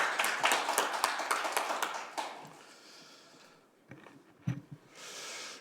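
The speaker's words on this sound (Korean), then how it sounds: "박수 한번 쳐주시죠" A short burst of applause from a small group rings out for about two seconds, then fades into a few scattered taps and quiet.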